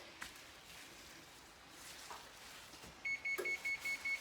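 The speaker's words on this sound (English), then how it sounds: "Okay, you heard the timer go off." A kitchen timer goes off while ice cream is being made, giving a run of evenly spaced short electronic beeps over a quiet room after a few faint knocks.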